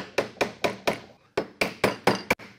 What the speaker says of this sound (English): I'd probably grab my beater chisel and try and get some of this waste down